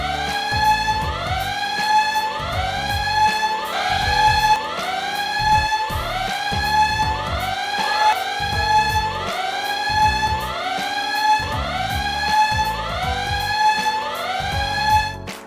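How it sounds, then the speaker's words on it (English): A school alarm sounding continuously in repeating rising electronic whoops, loud and insistent, with no voices. "they're saved by the bell, literally, as the alarm sounds"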